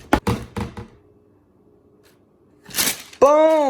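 Hands tap a quick drum roll on a sneaker shoe box: a burst of rapid hollow knocks, a pause, then a loud rustling thump as the lid comes off, followed by a voice.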